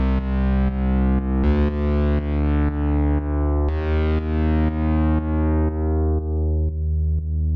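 A distorted, buzzy synth bass plays alone, with sidechain compression set so it does not pump, giving a steady sequence of heavy, sustained low notes with a brighter attack partway through.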